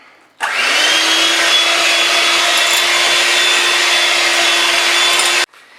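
A small electric hand mixer with dough hook attachments kneads dough, switching on abruptly into a loud, steady motor whir that holds for about five seconds before cutting off.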